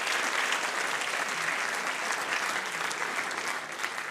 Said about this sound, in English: The volunteers today, you also deserve a round of applause.